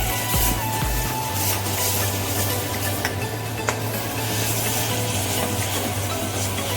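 Besan and bajra flour fry in hot oil for a mutton rassa, a continuous close sizzle with steady stirring and faint pan scrapes throughout.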